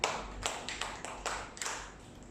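Several hand claps in a short uneven burst, six or seven sharp smacks close by, fairly soft, with no voices.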